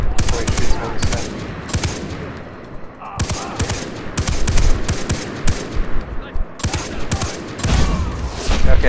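Far Cry 3 gunfire during a shootout with a sniper: rapid bursts of loud automatic shots and single cracks, dense and close, repeating across the whole stretch with brief pauses between volleys.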